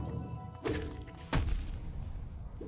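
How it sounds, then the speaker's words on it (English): Explosions in the video game Hollow Knight: two separate heavy thuds, one near the middle and a louder one later, each a short low burst over a steady game background with no talking. "The explosions deal 2 masks of damage."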